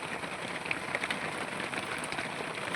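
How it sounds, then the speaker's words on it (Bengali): Rain falls during a storm beside the Keora river in the Sundarbans, heard from a fishermen's boat as a faint, steady, even hiss of drops with no voices. "বৃষ্টির আওয়াজ পরপর আরও বাড়ছে ঝড়ের আওয়াজও বাড়ছে"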